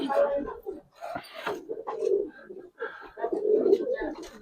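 Pigeons at a market stall coo in low, rolling throaty phrases, close and fairly continuous, while people talk over and between the calls.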